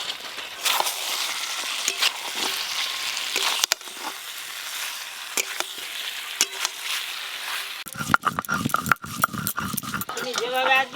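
Fried potatoes and cauliflower dropped into a spiced mutton curry in a pan, a steady sizzle with clattering stirring and scraping that grows busier toward the end, under a voice.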